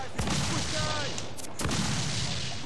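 Ship cannons booming in the video game Assassin's Creed IV Black Flag, two heavy blasts with rumbling tails over steady sea and battle noise, while crew voices shout.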